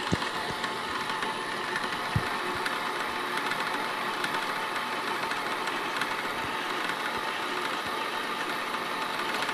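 An electric mixer whirs steadily while beating cheesecake batter, a continuous motor hum with faint mechanical rattle and occasional clicks against the bowl, close and moderately quiet, no voices.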